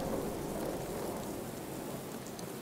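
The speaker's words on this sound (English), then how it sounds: "The rain is radiated" Steady radioactive rain pouring during a thunderstorm in Fallout, a dense, continuous hiss with low rumbling underneath and no talking.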